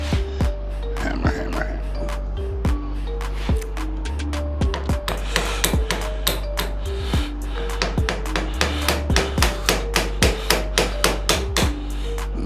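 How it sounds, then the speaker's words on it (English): Sharp hammer taps on a Zastava ZPAP M70 rifle while an ALG Defense AKT-UL trigger is fitted, starting as sparse strikes and building into a steady run of close, loud, regular blows over a low background hum. "Hammer."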